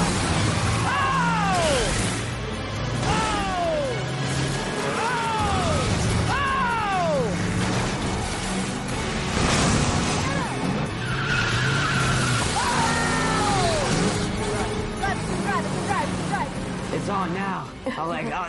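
Cars skidding and slamming into each other in a celebrity demolition derby, with repeated rising tire squeals over a constant engine roar and crash noise, while people talk and shout throughout.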